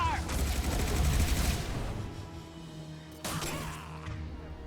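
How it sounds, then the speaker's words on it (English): Heavy gunfire in Mass Effect 2, a dense rattling fusillade that fades somewhat before another burst of shots, fairly quiet in the mix. "Taking heavy fire"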